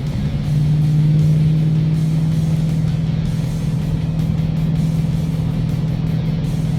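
A 2015 Mustang fitted with RideTech coilovers driving along, a steady low engine drone and road hum from inside the car, even and continuous without clear revving.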